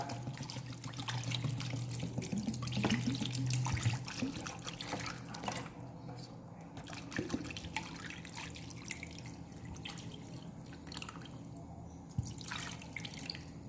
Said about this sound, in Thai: ทยอยเติมน้ำไปนะครับ อันนี้ก็ให้ท่วมเลยนะครับ